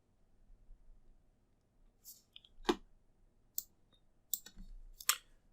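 Computer mouse clicks while unit tests for an Angular application are started, a handful of sharp, separate clicks spaced apart over quiet background hum.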